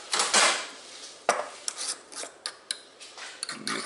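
A stubborn plastic container of PVC glue being forced open, giving a run of close scraping, clicking and rubbing sounds with several sharp snaps, with no talking.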